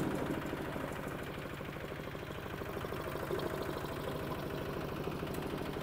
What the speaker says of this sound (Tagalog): pinapaandar po niya ngayon yung ating decorticator